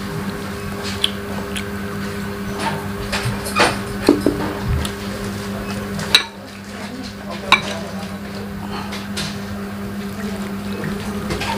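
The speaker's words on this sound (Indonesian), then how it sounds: "Gua aduk." Onion oil is stirred in a pan for chicken noodles, with a steady low sizzle under squishy stirring and a few sharp knocks of the utensil against the pan.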